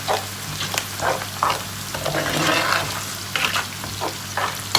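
Sugar, onion and garlic sizzle and caramelize in a frying pan, a steady loud crackling hiss broken by repeated scraping stirs of a utensil, with no talking over it.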